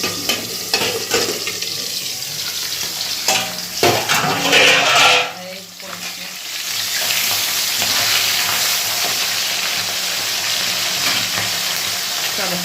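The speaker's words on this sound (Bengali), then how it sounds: "আর এই কটা মাছ ভাজলেই হয়ে যাবে।" Bacha fish frying in hot oil: a few clattering bangs and a brief splashy burst early on, then a strong, steady sizzle that carries on evenly to the end.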